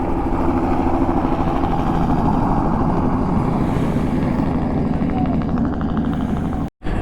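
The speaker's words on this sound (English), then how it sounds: "Canterbury helicopters, and away he goes." A helicopter on a high-country sheep station engine roars loud and steady throughout, a continuous close rotor and turbine drone that cuts out abruptly at the very end.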